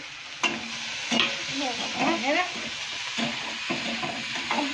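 Onion and curry leaves frying in a pan while a spatula stirs them in several distinct scraping strokes over a constant sizzle, with faint background voices.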